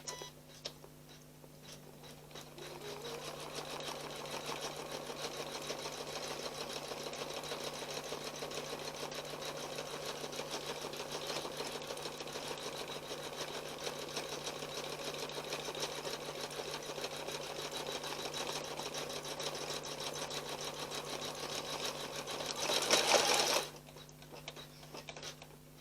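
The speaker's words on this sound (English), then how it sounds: "So this is all the wording going to get stitched down now." An embroidery sewing machine stitches lettering onto a fabric mug rug, a steady, fast mechanical whirring and ticking that runs close and unbroken for most of the stretch, then swells briefly louder near the end before stopping.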